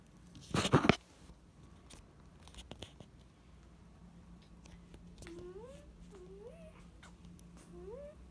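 A house cat gives a few short, rising meows in a row toward the end, close and fairly soft. A brief loud thump or rustle comes earlier, and there is faint background noise.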